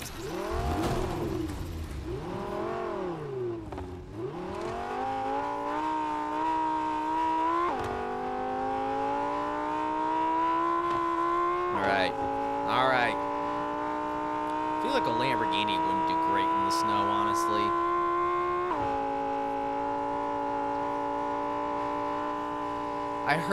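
A car driven in the video game Fortnite, its engine hum rising and falling in pitch through gear-like shifts, steady and close, with a person talking over it throughout.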